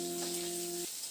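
Potatoes frying in oil with nigella seeds and chillies give a close, steady hiss of sizzling with a faint tonal hum that drops away partway through.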